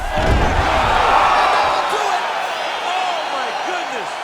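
A virtual arena crowd roars and cheers after a knockout finish in the UFC 5 fighting game. The roar is loud and sustained, fading slightly toward the end.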